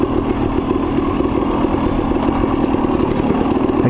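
A KTM 300 XC-W two-stroke dirt bike engine runs at a steady fast putter, loud and close, with a continuous buzzing rasp and no talking over it.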